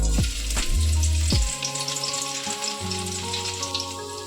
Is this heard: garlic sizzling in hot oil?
yes